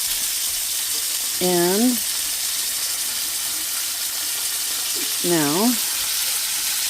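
Garlic butter fish searing in a hot pan, a steady loud broadband sizzle throughout, with a voice speaking briefly twice over it.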